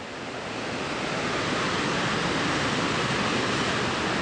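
Steady, dense rushing roar of the waterfall at Whiskeytown in a canyon, building slightly at first and then holding at a loud, constant wash with no voices.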